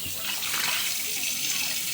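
Tap water runs steadily over vegetables being rinsed by hand in a kitchen sink, a continuous hissing splash with no talk.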